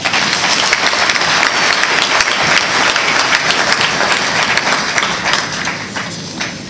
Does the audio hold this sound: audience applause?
yes